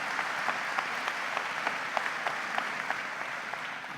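An audience at a distinguished educator award ceremony and 50th class reunion claps in a steady, moderately distant patter that carries on evenly throughout.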